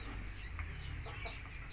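A backyard laying hen clucks softly and intermittently nearby after producing an egg, its short calls sitting over a low background rumble.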